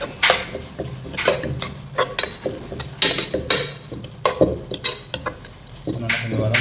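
Onions sauté in a pan for a chicken and broad bean curry, with a steady sizzle of frying beneath repeated scrapes and clinks from a stirring spoon against the metal, up close.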